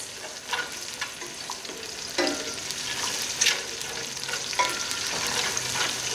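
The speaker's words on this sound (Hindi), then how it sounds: "हरी मिर्ची जब हम इस तरीके से ऑयल में करते हैं फ्राई तो इसका बड़ा अच्छा सा एक अरोमा आता है ख़ास" Green chillies fry in hot oil with a continuous close sizzle and crackle, occasional spoon stirs and clinks rising above it, moderately loud throughout and with no voices.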